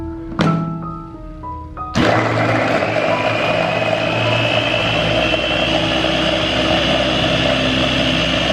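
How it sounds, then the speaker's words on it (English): A blender starts up with a sudden jump and then runs steadily at high speed, whirring loudly through beets and water until the clip ends. "Beet in a blender."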